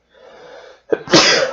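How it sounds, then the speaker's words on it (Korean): A single sudden sneeze bursts out loud and close, preceded by a brief quiet intake of breath, with no talk over it. "재채기가 갑자기 나왔어요."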